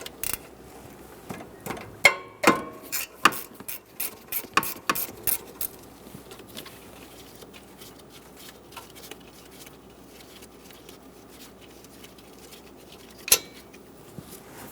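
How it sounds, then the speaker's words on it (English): A ratchet backs a 10mm bolt off the rear of the alternator on a 1988-1999 GMC K1500 5.7L V8 truck, giving a run of quick, close metallic clicks that trail off into quiet, then a single later click. "Remove the 10mm bolt in the back."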